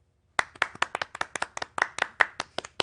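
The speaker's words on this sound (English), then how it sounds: "Let's give her a round of applause" A studio audience claps for a guest on a talk show, a dozen or so fairly close, sharp claps in a loose, uneven rhythm with no voices over them.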